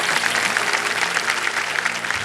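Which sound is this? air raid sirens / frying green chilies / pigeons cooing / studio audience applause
studio audience applause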